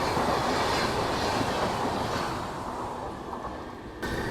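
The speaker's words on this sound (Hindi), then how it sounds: "ये मेरे ख्याल से मंगला लक्षद्वीप एक्सप्रेस है जो हमें क्रॉस कर रही है अभी" Mangala Lakshadweep Express crossing alongside a halted train, a loud, steady rush of rolling wagons and rail noise that fills the whole stretch and eases slightly toward the end.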